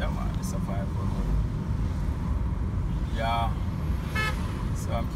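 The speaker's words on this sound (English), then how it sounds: "the massive traffic here in Portmore at 1 o'clock is unbelievable" Heavy midday traffic in Portmore streams past with several short car-horn toots over a steady road rumble, close by, and a voice speaks briefly.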